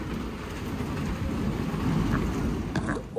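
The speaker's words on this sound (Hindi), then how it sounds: "बारिश आ गई है, बहुत दिनों बाद बारिश हुई" Steady rain falls after a long dry spell, a dense continuous hiss with no breaks and no talk, fairly loud and close throughout.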